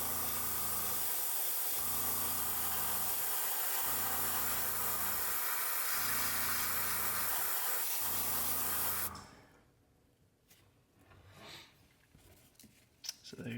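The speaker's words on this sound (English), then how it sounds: "then we just hold it down and give it a nice spray over" Spray paint hisses steadily over a paper stencil held on a fishing lure, laying baby rainbow trout parr markings. The close, even hiss runs about nine seconds with slight pulsing, then cuts off to quiet handling noises.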